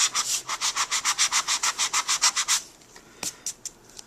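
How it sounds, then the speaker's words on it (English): Sandpaper rubs quickly back and forth across a piece of card to roughen it for stamping, about fifteen close, even scratchy strokes, followed by a few scattered lighter scrapes. "so we've sanded it off, given it a rough exterior"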